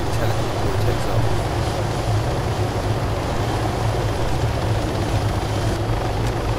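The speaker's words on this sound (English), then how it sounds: "I'm guessing this is the new helicopter, because I haven't seen this in this game before." Helicopter engine in the video game Arma 3, a steady loud rotor and turbine drone filling the whole stretch without letup.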